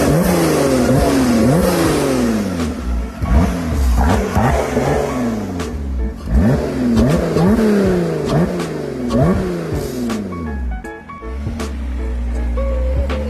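A Lotus Evora GT with a swapped, supercharged engine running and being revved repeatedly, loud close rising and falling engine sweeps one after another, then settling to an idle.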